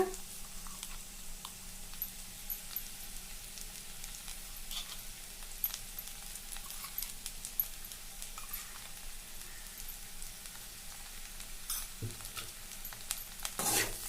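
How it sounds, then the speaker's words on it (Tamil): Ivy gourd frying with coarsely ground masala is stirred in a pan, giving a steady soft sizzle with faint scraping throughout and a brief louder clatter near the end. "சேர்த்துட்டு கலந்து விட்டுக்கலாங்க."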